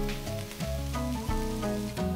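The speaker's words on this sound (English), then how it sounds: "Saute the onion and garlic for about 5 minutes until translucent" Onion, garlic and spices sizzle and fry in a pot, a continuous close crackle with occasional stirring scrapes and no talking.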